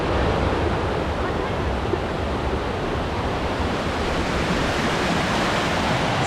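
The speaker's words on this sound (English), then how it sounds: "This is absolutely amazing how many waterfalls there are." Waterfalls along the Falls Trail at Ricketts Glen, Pennsylvania, make a loud, unbroken broadband rush that holds steady throughout, with no voices.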